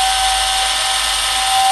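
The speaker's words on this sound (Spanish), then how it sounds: "en el momento de poner a funcionar el taladro" A cordless drill, rewired to run from a slightly discharged 12-volt motorcycle battery, spins continuously with a loud, close, steady high-pitched motor whine and no change in speed.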